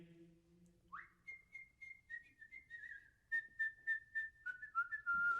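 The Sig Ep fraternity whistle tune is whistled solo: a sliding entry note, a held phrase, then a run of crisp, evenly spaced staccato notes ending on a lower held tone, soft and unaccompanied.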